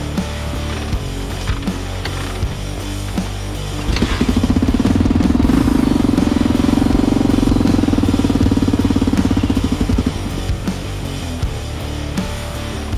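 A motorcycle engine with a new top end is kick-started on full choke and fires up, revving loudly and unevenly for several seconds before dropping back to a rough, close idle.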